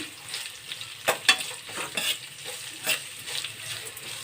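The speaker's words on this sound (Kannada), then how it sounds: "ಒಂದು ಎರಡು ನಿಮಿಷಗಳ ಕಾಲ ಚೆನ್ನಾಗಿ ನೀವು ಈ ಥರ ಮಿಕ್ಸ್ ಮಾಡ್ಕೊಳ್ಳಿ" Onions and chillies fry and sizzle in a pan for avalakki puliyogare while a spatula stirs them, giving steady close crackling with repeated scraping strokes and clinks.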